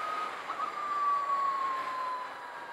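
High, steady electric motor whine from a Zero Empulse TT electric motorcycle, a thin tone gliding slowly downward over a soft road-noise bed, no talking.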